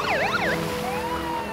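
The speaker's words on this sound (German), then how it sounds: "Das Polizeiauto ist schon unterwegs." Cartoon police car siren for small children, a bright wailing up-and-down sweep that rises and falls in quick cycles, loud and close, then fades into a softer sustained tone with no talk.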